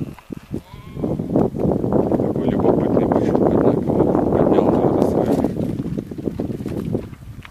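A herd of cattle drinking at a pond lows and bellows almost continuously, close and loud, with overlapping calls swelling through the middle while someone speaks over them.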